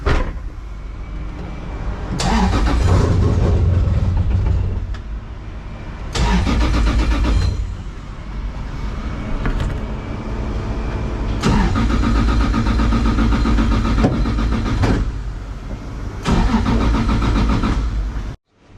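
An old car fitted with a 2JZ engine cranks repeatedly without catching, in several loud bursts of starter churning separated by short pauses, close to the listener.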